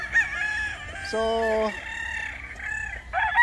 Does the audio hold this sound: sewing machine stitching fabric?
no